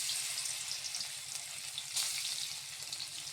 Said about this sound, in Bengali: তেলটা গরমের মধ্যে আমি চিকেনটা একটু নুন আর হলুদ দিয়ে চিকেনটা দিয়ে দিলাম।